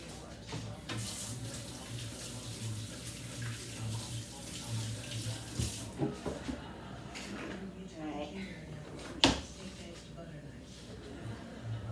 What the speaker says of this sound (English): I'm going to wash my hands quick.